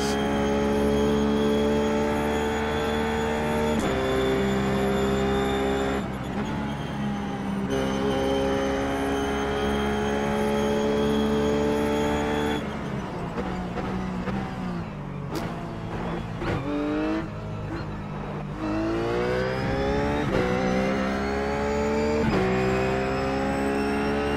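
A Ruf GT3 Porsche race car screams around Suzuka in iRacing, its engine droning loud and steady. The pitch climbs and drops through gear shifts as the car accelerates and brakes, with no voices.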